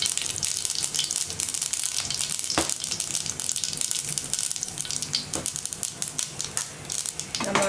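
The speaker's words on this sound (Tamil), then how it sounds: "கடுகு பொரிஞ்சதும் கருவேப்பிலை போடலாம்." Mustard seeds splutter and pop in hot oil as curry leaves go in for a Tamil bitter gourd pitlai, a steady close sizzle broken by sharp crackling bursts, with no talking.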